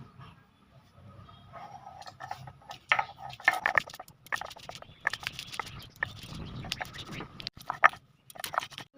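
Ginger, green chili and garlic ground on a flat grinding stone with a stone roller, giving irregular scraping, knocking and crushing strokes that come and go at close range.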